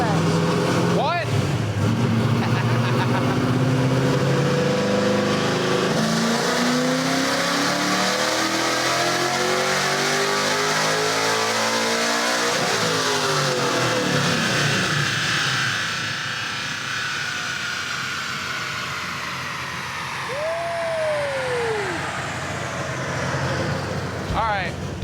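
Hot rod V8 engine on a dyno making a power pull, revving hard and climbing in pitch, then easing off, loud and sustained under occasional talk from people nearby.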